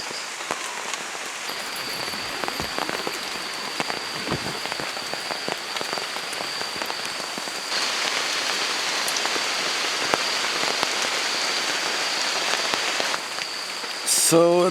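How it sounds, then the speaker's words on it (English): Heavy jungle rain patters steadily on a surface at night, dense and close, intensifying in the middle, with a faint high tone running beneath. "So it was raining all night"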